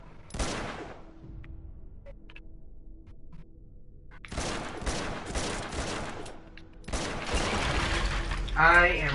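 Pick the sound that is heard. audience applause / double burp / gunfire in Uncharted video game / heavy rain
gunfire in Uncharted video game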